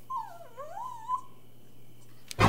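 A dog gives a single drawn-out whimper that slides down and back up in pitch, close and clear in a quiet room, followed by a short pause and a brief knock at the end.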